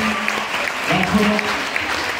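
An audience applauds Madame Valérie at a ceremony in Réunion, a short steady burst of clapping from a crowd with a voice speaking over it.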